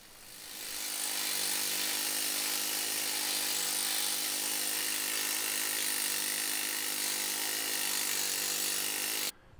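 A pneumatic needle scaler strips old paint from an iron gate, a loud, harsh, continuous rattling buzz that starts abruptly, runs unbroken for about nine seconds at close range, then cuts off.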